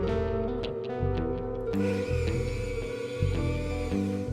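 A power drill whirs and bores into wood, its motor pitch shifting as the bit bites, steady and close.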